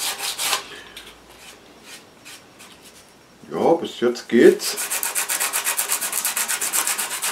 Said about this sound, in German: Ich schleife das Ganze wieder mit dem 120er vor.